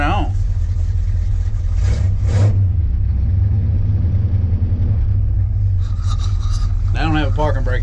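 A 1971 Dodge W200 Power Wagon with a 318 engine and four-speed rumbles loudly after a cold start, its heavy idle swelling with revs while people talk over it.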